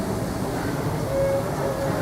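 Kings Island and Miami Valley Railroad train pulling out of Rivertown Station, a steady low rumble of rolling cars with a brief thin whine, heard from on board.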